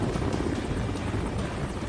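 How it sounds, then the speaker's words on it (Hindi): A Mi-17 helicopter hovers over the Ganges in Varanasi during a commando operation, a steady heavy rotor drone with dense low thumping, constant and fairly loud with no voices. "गंगोत्री क्रूज की तरफ MI-17 हेलीकॉप्टर मंडरा रहा है।"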